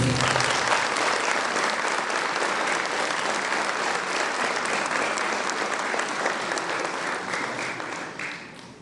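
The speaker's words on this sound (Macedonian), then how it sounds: "Ќе ве замолам за еден аплауз за сите нив." Dense, sustained applause from a concert audience for the folk ensemble's dancers, orchestra and singers, loud and steady throughout before easing off near the end, with no voices over it.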